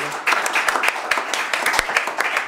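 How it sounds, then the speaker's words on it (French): A church congregation applauds together at worship, dense clapping sustained for a couple of seconds, loud and close, with faint voices mixed in. "Acclamons très fort pour la gloire de Dieu."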